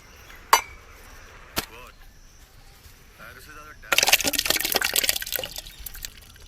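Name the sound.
liquid being poured into a pot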